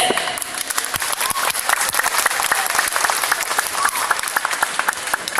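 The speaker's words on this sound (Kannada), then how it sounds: "ನಿಮ್ಮ ಚಪ್ಪಾಳೆ ಸೌಂಡು ತುಂಬಾ ಕಡಿಮೆ" Audience at a motivational talk claps continuously, dense fast clapping from many hands close by, loud and sustained for several seconds with no break.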